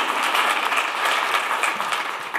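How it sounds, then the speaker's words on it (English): A presentation audience at a DaVinci Resolve 10 demonstration bursts into close, dense clapping that continues evenly for a couple of seconds with no talking. "Please, feel free to clap."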